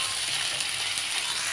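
Onion, garlic and ginger paste fry in hot oil with a steady, dense sizzle, close and continuous without any voices.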